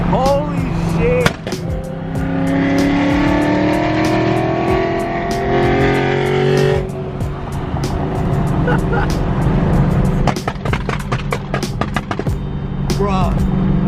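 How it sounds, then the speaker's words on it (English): A very loud car revs hard and roars past close by, engine tone climbing then fading, with sharp pops and rattles, while voices talk over it. "I don't think I've ever heard a louder car"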